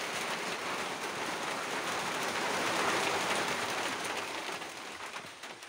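Rain falling steadily during stormy weather with flooded rice fields nearby, a constant dense hiss of rainfall that stays loud and even throughout, with no voices.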